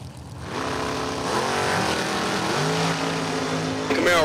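A 2000 Camaro drag racing at Numidia Dragway during a bracket final, engine roaring loud and close with rising revs as it launches and accelerates hard.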